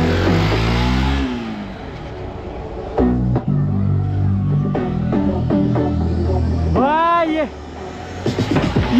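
A Kawasaki Z900 motorcycle on a desert ride revs hard with rising and falling engine sweeps, loud and close, with people talking around it.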